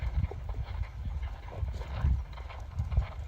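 Horse cantering on the counter lead, with a steady rhythmic three-beat pattern of muffled hoofbeats on soft footing at close range.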